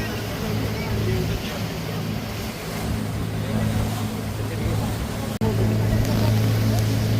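A boat motor drones steadily beneath the rush of water along the hull in Dubai at dusk, loud and close throughout, with a brief dropout near the end.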